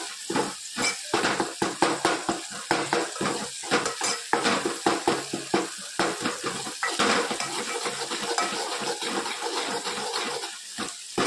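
A metal spoon stirs a dal tempering of ghee and oil in a pot, giving loud, repeated scraping clanks against the metal in an irregular rhythm, with a faint sizzle underneath.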